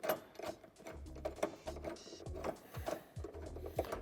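A bolt is driven with an extension while fitting a tow hitch to an Opel Mokka, giving faint, repeated mechanical whirring and clicking bursts in short, uneven pulses.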